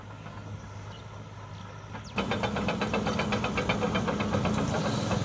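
A SANY SY135C excavator's Isuzu diesel engine hums quietly at first, then kicks up into a louder, steady, pulsing rumble partway through and keeps running close by.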